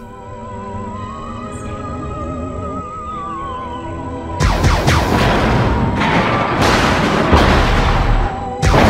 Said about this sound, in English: Then the base gets destroyed